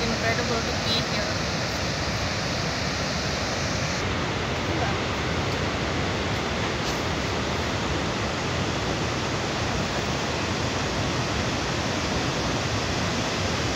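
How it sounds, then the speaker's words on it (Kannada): Chitrakuta waterfall on a broad river in Bastar, Chhattisgarh, pours in a dense, unbroken roar of falling water, close and loud throughout with no pauses. "so this water fall is called Chitrakoot fall in Chhattisgarh in Bastar"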